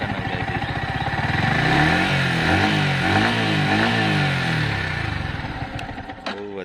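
Close and loud, a Yamaha R15 motorcycle engine climbs from a rapid idle into a sustained rev that rises and wavers for several seconds, then eases back down, with no talk.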